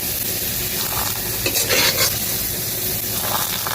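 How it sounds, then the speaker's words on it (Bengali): Lentils fry with onion and green chili in a pan, giving a constant loud sizzle broken by scraping and clinking as a utensil stirs the mixture. "কাঁচা লঙ্কা আর পেঁয়াজ আছে, একসঙ্গে ভেজে নেবো, ডালও দিয়ে দেবো।"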